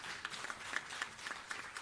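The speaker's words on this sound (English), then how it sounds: "I want you to give him a big round of applause" Audience applause for a doctor at a Caribbean fisheries crime event, heard as a brief, faint patter of scattered claps with a few sharper hand slaps standing out.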